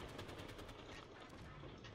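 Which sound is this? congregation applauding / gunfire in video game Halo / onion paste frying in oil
gunfire in video game Halo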